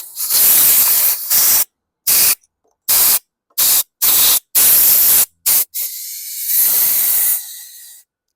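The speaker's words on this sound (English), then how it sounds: "Let me get the compressed air." Compressed air blasting through a removed carburetor from a 2015 Troy-Bilt TB230 self-propelled lawn mower: loud, close hissing bursts, one long blast then a series of short sharp puffs and a final sustained rush.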